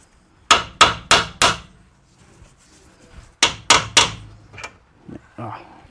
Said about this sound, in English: Give it a little tap. I can't find my bigger hammer